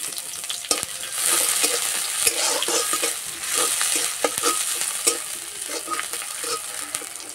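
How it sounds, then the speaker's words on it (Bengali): Chopped onion hits hot mustard oil in a kadai and crackles into a steady close sizzle, broken by sharp scrapes and taps of stirring throughout. "তেলে দেবো পেঁয়াজ কুচি।"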